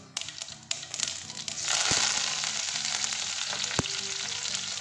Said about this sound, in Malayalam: കടുക് പൊട്ടാൻ തുടങ്ങി കറിയൊക്കെ ഇട്ട് കൊടുക്കാം